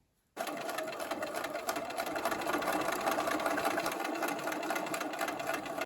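A sewing machine runs steadily through a quilt star block, starting abruptly after a moment of quiet and then humming and stitching continuously, loud and close, without any talk.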